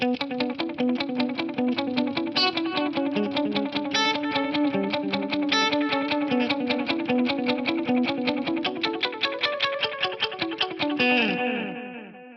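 Electric guitar notes through an Eventide Eclipse delay repeat in a rapid, even tap-tempo delay pattern, echoes stacking into a shimmering wash before fading at the end.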